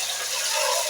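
Water being poured to rinse fish, a steady broadband rush of running, splashing water, close and fairly loud throughout the short moment with no break.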